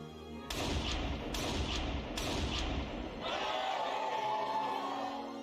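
Rifle shots fired down range, three sharp loud cracks spaced about a second apart, followed by a duller thump and a lingering noisy tail.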